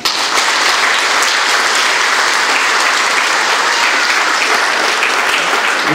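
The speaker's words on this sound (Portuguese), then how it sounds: "Vamos aplaudir." A crowd applauds during a wedding ceremony right after the rings are exchanged. Loud, dense clapping continues steadily, close and without a break.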